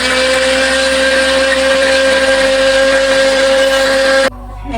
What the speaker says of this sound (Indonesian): Kasih air sedikit. Oke, sekarang kita halusin dulu ya.